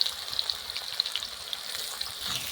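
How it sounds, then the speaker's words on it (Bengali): Chopped onions frying in oil for mutton curry, a faint steady crackle with small pops scattered throughout, close and without speech. "দিয়ে পেঁয়াজ কুচিটা দিয়ে দিলাম, দিয়ে লাল লাল করে পেঁয়াজগুলো ভেজে নেব"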